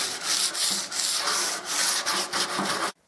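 Damaged woodwork is sanded by hand with 120 grit sandpaper: close, steady back-and-forth rubbing strokes in a brisk rhythm, continuing for about three seconds before stopping abruptly.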